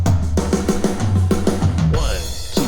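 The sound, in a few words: Beatbuddy drum machine playing Rock 1 pattern at 96 BPM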